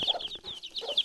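Hen with her chicks, nearby in a village yard: soft repeated clucks mixed with high, rapid chick peeps, with no voices.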